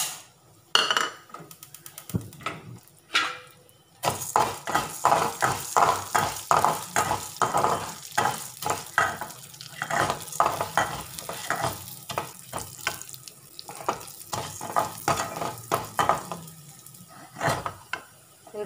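Urad dal frying and being stirred in a pan for a curry leaf thuvaiyal: dry rattling and scraping strokes in a steady, busy rhythm over a soft sizzle, close and fairly loud, with no voices.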